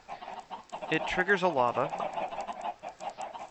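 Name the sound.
chickens clucking in Minecraft (Hexxit modpack) video game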